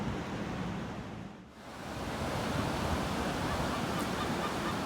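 River water in Bath pours steadily over a weir by the old quayside, a loud, continuous broadband rush that dips briefly before surging back.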